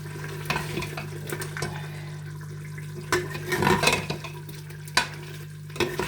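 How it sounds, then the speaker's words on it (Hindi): Goat meat for chana dal gosht sautés in a pan, a steady crackling sizzle with scraping spoon strokes and a few sharper clinks against the pot, close and moderately loud. "अब मैं थोड़ा सा इसकी भुनाई करूँगी"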